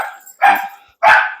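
A dog barks twice in a domestic kitchen, two sharp close barks about half a second apart, each preceded by a softer yip or whine, with no other sound.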